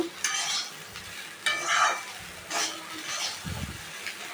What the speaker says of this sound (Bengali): লবণ হলুদ দিয়ে ভালো করে নাড়ব